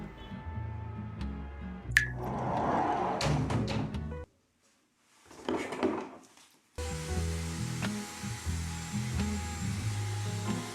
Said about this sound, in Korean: 제가 이렇게 원래 드라이기로 처음부터 끝까지 머리를 다 말리는 일이 거의 없거든요